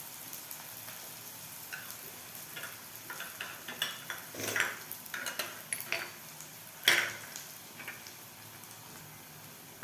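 Onions fry gently in oil toward golden for chana masala, a quiet sizzle under light clinks and scrapes of a spoon stirring against the pan.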